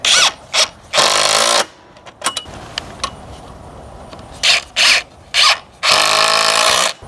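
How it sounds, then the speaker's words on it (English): A power drill drives screws into greenhouse track in several loud, close bursts of whirring, with short pauses and quieter handling noises in between. "Final part, simply attach it with screws."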